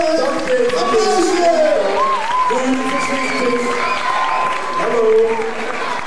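A crowd at a scouting playback show applauds a third-prize announcement, clapping and cheering blending with loud voices and chatter throughout, while someone speaks over the noise.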